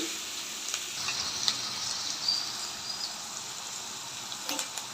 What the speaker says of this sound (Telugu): మనము కట్ చేసి పెట్టుకున్న ఉల్లిపాయ వేసేసి ఫ్రై చేస్తున్నాము